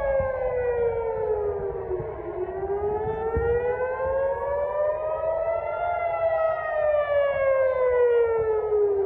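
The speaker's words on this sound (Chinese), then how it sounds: "耶路撒冷也是再度的拉响了防空警报" Civil defense air raid sirens wail across Jerusalem during an Iranian drone and missile attack, a loud, steady rising-and-falling tone with overlapping sirens sustained throughout, no speech.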